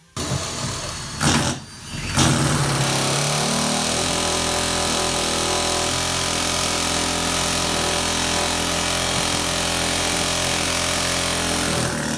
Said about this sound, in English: try to drill straight into the rivet